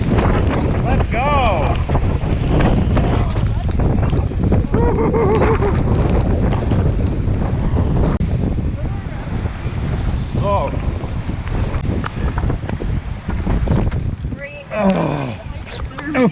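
Strong wind buffeting the microphone over crashing waves during a storm on Lake Superior, loud and continuous, with voices calling out over the roar.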